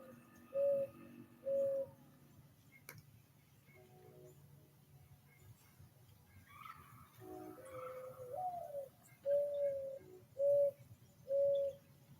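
Soft, repeated cooing calls from a dove sound in a slow rhythm, with a few brief chirps from other birds over a quiet outdoor hum.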